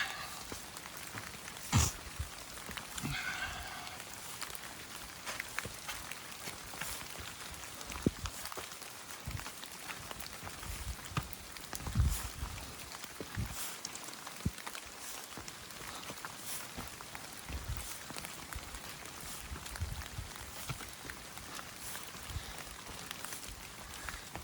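Steady rain patters and crackles on surfaces nearby, with scattered louder drops and a faint background hiss throughout.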